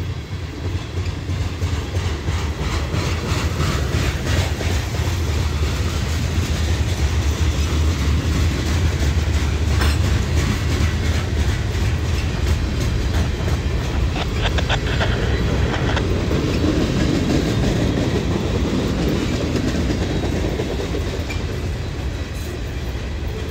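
A long mixed manifest freight train, including a Conrail boxcar, rolling past near Cincinnati with a continuous loud rumble and rhythmic clickety-clack of wheels over rail joints, steady throughout.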